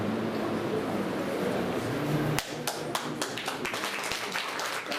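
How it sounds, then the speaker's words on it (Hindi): At an annual function of a Himgiri Kalyan Ashram hostel in Chamba, a hall audience claps. A dense wash of applause fades after a couple of seconds into scattered, separate hand claps and taps. "तालियां बजती रहनी चाहिए।"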